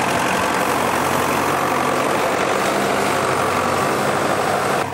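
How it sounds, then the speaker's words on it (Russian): A Belarus tractor engine runs steadily close by, a loud continuous drone with heavy low rumble and no speech over it. "Пресс-подборщик 145-й и трактор «Беларусь»"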